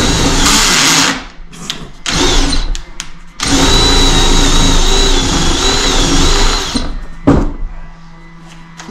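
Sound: power drill drilling into wood

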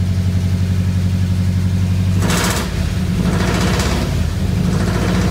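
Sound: 1985 Ford Bronco engine running with loud exhaust

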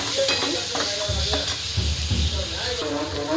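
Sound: frying tomato in oil

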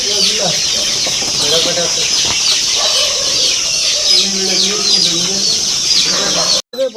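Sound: chickens clucking

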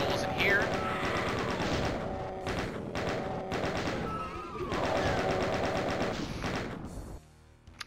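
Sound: chaingun firing in the video game Doom 2

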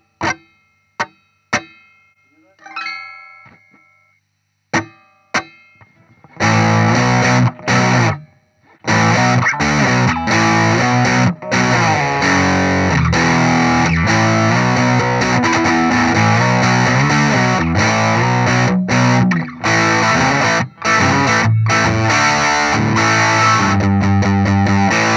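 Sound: hollowbody electric guitar with overdrive

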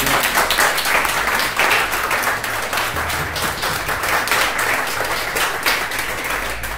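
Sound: applause

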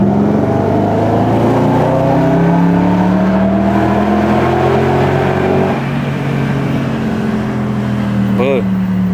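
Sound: BMW 7 Series engine and X-pipe exhaust revving

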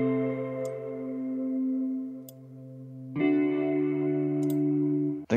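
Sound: guitar with filter, EQ and effects processing

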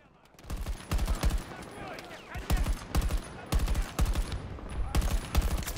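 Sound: gunfire from video game Battlefield

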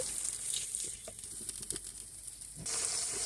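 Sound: spices sautéing in a pan for hilsa fish curry

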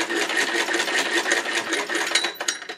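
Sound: hand-cranked 99 sewing machine stitching

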